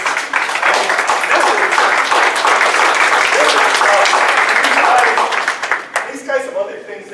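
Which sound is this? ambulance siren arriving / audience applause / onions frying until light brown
audience applause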